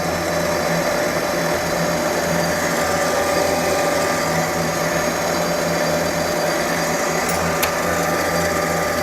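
A lathe runs steadily with its half nut engaged while a custom tool is being made, a constant mechanical whine and hum holding level throughout with no voices.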